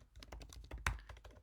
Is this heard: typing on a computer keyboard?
yes